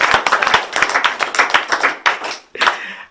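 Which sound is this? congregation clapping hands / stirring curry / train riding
congregation clapping hands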